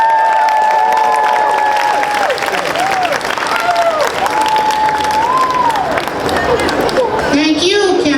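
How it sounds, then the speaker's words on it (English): Audience applause at a Lunar New Year opening ceremony, with loud sustained clapping and cheering from a crowd, shouts rising above it, and a voice speaking over the noise. "Let's give them all a round of applause."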